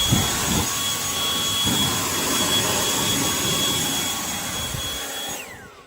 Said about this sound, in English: Milwaukee, for the double duty, double blower, batteried air blower.